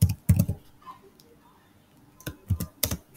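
Short bursts of computer keyboard typing, a few quick clusters of key clicks separated by a quiet pause, close and clear.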